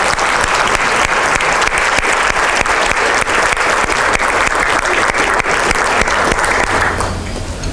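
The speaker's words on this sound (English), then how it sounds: "a huge round of applause to all of them" A large audience applauds loudly and steadily for nearly eight seconds at an academic history conference plenary lunch, and the clapping tapers slightly at the end.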